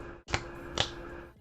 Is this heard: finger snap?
yes